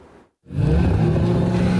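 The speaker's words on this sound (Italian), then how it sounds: "I motori rombanti pronti a partire" Car engines revving at an illegal street race at a roundabout on the Postumia road in Castelfranco, a brief pause then a loud, sustained, rumbling roar of engines close by.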